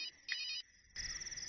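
An electronic telephone ringtone in a scene from the Telugu film Veedokkade, a short trilling burst followed by a pause and then a continuous ring, fairly quiet and with no voices.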